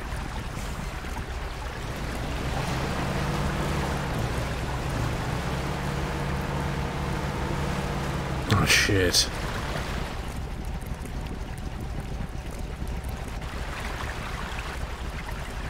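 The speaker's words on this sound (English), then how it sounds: "Listen to the exhaust. Because it's underwater." Truck exhaust bubbling and gurgling underwater in the Mudrunner off-road driving game, a steady rumbling burble with a loud splashy burst midway, as a man curses briefly.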